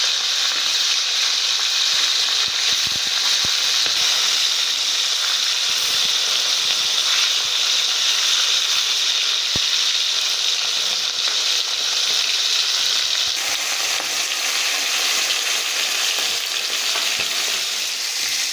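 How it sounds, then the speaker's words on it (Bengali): Fish frying in a pan of oil gives a loud, continuous close-up sizzle that barely varies, with a few faint knocks as the pieces are turned over and no voices. "এবার আমি অন্য পিঠ উল্টে একইভাবে ভেজে নেব।"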